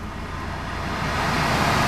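A steady broadband whoosh of air fills the clip, rising slightly in loudness, like the air conditioning fan of a 2003 BMW 318i blowing inside the cabin.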